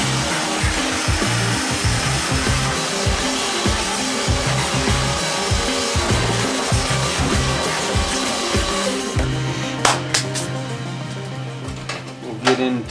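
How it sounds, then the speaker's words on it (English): A vacuum cleaner roars steadily nearby for several seconds in a garage during removal of old car wiring, its motor whining, then cuts off leaving clattering handling noises. "I'll vacuum this up real quick."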